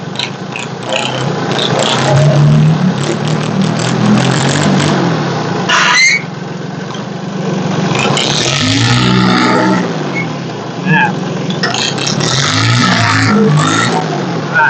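A used walking tractor's engine runs loud and close, chugging steadily with rises and dips in revs and a few sharp squeaks and clanks over the drone.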